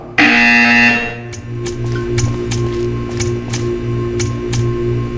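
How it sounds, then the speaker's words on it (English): In the video game Portal 2, a loud electronic buzzer sounds in a sharp burst at the start and then gives way to steady hum with repeated clicking ticks. "You will hear a buzzer."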